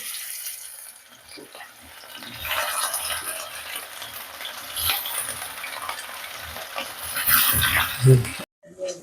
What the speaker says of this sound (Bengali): তেলটা গরম হয়ে গেছে আমি মাছগুলো ভেজে নিচ্ছি